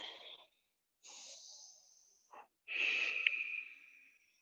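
Slow, deep yoga breaths taken close to the microphone, a few long airy inhales and exhales separated by silent pauses, the final exhale the longest and loudest.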